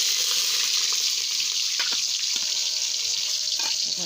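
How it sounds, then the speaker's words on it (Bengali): Whole cumin seeds, bay leaves and green chili frying in hot oil in a kadai, a steady close hiss with a few faint stirring clicks. "ভালো করে ভেজে নেব।"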